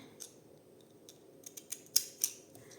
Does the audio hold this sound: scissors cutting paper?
yes